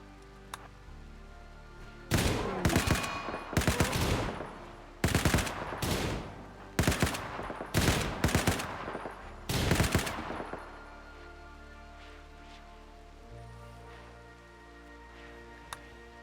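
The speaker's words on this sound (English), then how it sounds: "Get the firing squad out here, boys." Firing-squad gunfire in a modded video game: several loud bursts of rapid shots, each lasting about a second, repeating at irregular intervals over roughly eight seconds against a quiet background hum.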